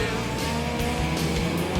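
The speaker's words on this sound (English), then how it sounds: "it's flat out for the rest of the pack as they head up to the Dunlop South Loop at turn 12" Race cars run flat out at a road racing championship heading up into a loop at turn 12, engines roaring loudly and continuously close by with pulsing revs.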